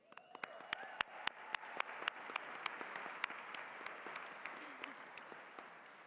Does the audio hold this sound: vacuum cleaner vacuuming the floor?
no